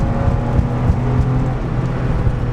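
A 1998 Porsche 996 911 driven on an open road with the windows down, its engine drone and tyre roar loud and close, a steady continuous rumble with no voices.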